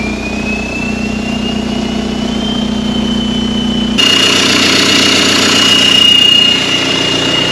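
A barn-find Volkswagen Caddy with a swapped TDI diesel engine and turbo runs close by in a steady, continuous idle, with its tone shifting and growing slightly louder partway through.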